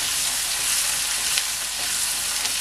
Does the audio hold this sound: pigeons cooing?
no